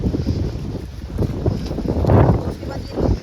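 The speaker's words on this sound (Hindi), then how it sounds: "ये देखो गाइस जो आंधी आई है ना," Strong gusting wind in a dust storm buffets the microphone with a loud, continuous low roar that swells and fades in surges, with a voice mixed in under the noise.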